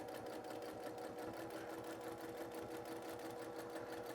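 A sewing machine stitches around a candy bag fabric applique, running at a steady fast rhythmic whir with needle clatter, continuous and quiet.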